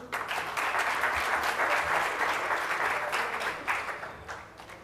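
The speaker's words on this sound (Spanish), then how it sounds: "Un fuerte aplauso, por favor." Conference audience at CADE 2017 applauds a presentation on Latin America, a loud, dense burst of clapping that holds steady and then begins to thin toward the end.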